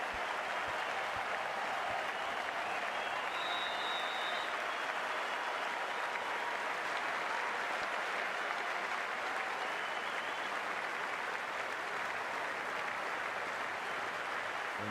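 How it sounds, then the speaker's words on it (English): A large stadium crowd at a T20 World Cup cricket match in Chennai applauds continuously, a dense and steady wash of clapping and cheering that fills the space at moderate distance. "It's a fantastic crowd in today."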